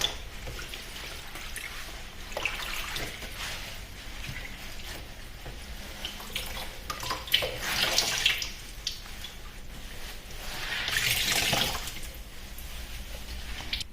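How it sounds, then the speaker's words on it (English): Tablecloth being scrubbed and rinsed in water, with gentle sloshing and splashing that rises in two louder bursts over a quiet watery background, and no voices. "rinsing it in water"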